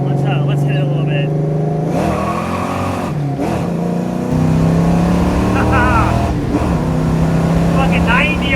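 A supercharged 1993 Fox Body Mustang engine revs hard through several gear changes, rising in pitch each time with brief dips between shifts, loud and close.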